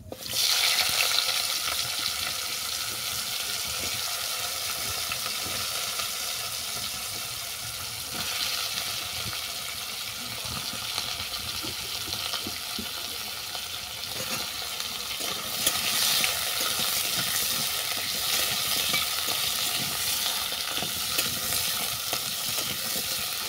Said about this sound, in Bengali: হালকা করে ভেজে নেব, 2-3 মিনিটের মতো ভেজে নেব।